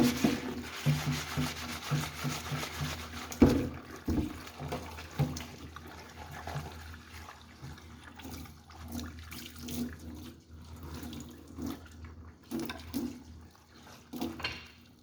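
Running tap water pours and splashes as a microalgae collecting cloth is rubbed and rinsed by hand without soap, a continuous washing sound with scrubbing and a sharper knock near the start.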